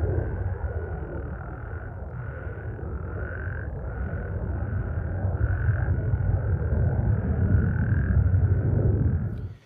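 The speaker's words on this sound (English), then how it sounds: "it took the frogs fully 45 minutes to regain their chorusing synchronicity" A nighttime chorus of frogs croaks steadily in overlapping pulses, with a dense, even texture over a strong low rumble that lasts the whole stretch.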